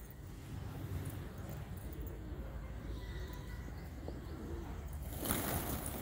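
Racing pigeons and Lotan tumbler pigeons cooing softly at a distance over a steady outdoor background, with a brief louder rustle near the end.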